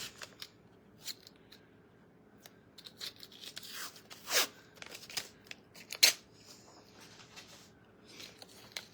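Tape pulled and torn off a roll while making an Easter bunny shelf hanger, a string of quiet crinkles and ripping snaps with a few sharper tears, close but faint.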